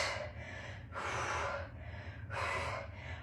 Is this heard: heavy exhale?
yes